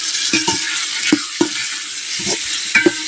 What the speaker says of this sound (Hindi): अब हम इसको अच्छे से भून लेते हैं।